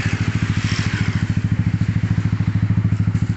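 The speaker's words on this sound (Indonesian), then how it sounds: "Yamaha Aerox New F2 Racing tipe Celong. Kita tes sound." Yamaha Aerox 155 scooter with an F2 Racing long-type exhaust idling close by, a fast, even, deep throbbing pulse that stays steady without revving up.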